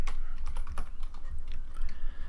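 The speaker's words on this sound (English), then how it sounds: "Size up the brush using the bracket keys" Computer keyboard bracket keys tapped repeatedly while sizing a brush in Photoshop, giving a quick run of close, crisp clicks over a low hum.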